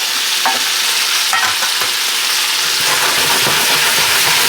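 Red onion hits a hot pan and fries with a loud, steady, dense sizzle, broken by occasional stirring scrapes, with no talking over it.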